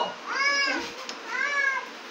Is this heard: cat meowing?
yes